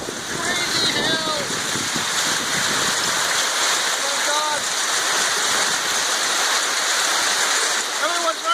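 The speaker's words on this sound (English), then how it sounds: "Hailstorm in Bondi and Hall Street." Hail pours down onto a street in Bondi, a dense, steady rushing patter that fills the whole scene and never lets up, with excited voices shouting over it.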